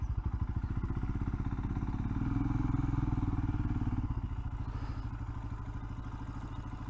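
A Royal Enfield Himalayan motorcycle rides along with a steady, loud single-cylinder engine thump close to the microphone, a low pulsing throb that swells briefly mid-ride before easing back, with wind rush over it.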